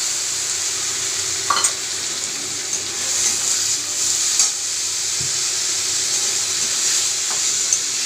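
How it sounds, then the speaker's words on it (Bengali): Gobindobhog rice fries with spices in a pan, giving a steady, close sizzle with occasional scraping clicks and taps of stirring throughout. "গোবিন্দভোগ চালটাকে মশলাটার সঙ্গে ভালো করে কষিয়ে নেবো"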